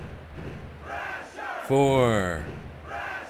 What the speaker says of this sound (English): The fans have totally lost it. They're really getting behind Thrasher. Cheering for Thrasher.